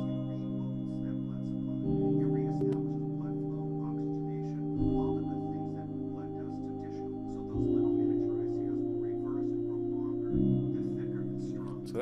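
Sustained minor chords from an Omnisphere synth patch, triggered in chord mode on a Maschine controller, held pads shifting every few seconds, soft and alone with no voices.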